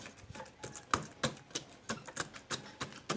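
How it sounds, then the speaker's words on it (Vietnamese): Catfish roe is mashed in a bowl, a quick series of soft, irregular tapping and squishing thuds, close and fairly quiet, roughly three or four strikes per second. "đâm trứng cá ngát ra cho nó bể các bạn."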